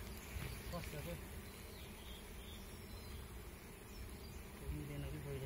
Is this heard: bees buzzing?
yes